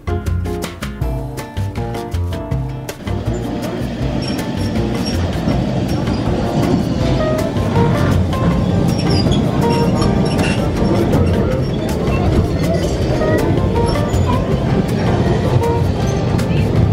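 A Lisbon tram rumbles and grinds past, a loud and constant rolling roar from start to finish, with people talking over it.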